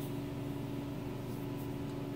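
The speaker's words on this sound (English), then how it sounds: "excuse the furnace noise" A household furnace runs steadily in a cold room, a continuous low hum and rumble with a drone holding at constant loudness throughout, no voices over it.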